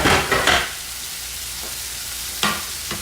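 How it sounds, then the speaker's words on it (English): Chicken breast sautés in a hot pan with a loud sizzle, broken by scraping stirs at the start and again near the end, while a softer steady frying hiss fills the gaps. "this is just some chicken breast that's going to be sauteing"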